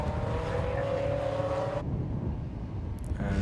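Formula Ford racing cars stream past on a circuit during a club race, a loud close engine roar and whoosh that cuts off suddenly and leaves a fainter background rumble.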